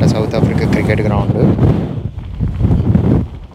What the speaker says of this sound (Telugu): అంత హెవీ విండ్ అయితే వస్తుంది